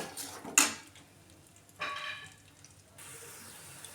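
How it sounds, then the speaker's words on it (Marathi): Peanuts and garlic frying in oil in a pan, a soft continuous sizzle with a sharp utensil clink near the start and bursts of stirring scrapes, growing a little louder toward the end. "लसणीबरोबर शेंगदाणे त्याच्यात भाजून घेऊया आपण व्यवस्थित तेलात"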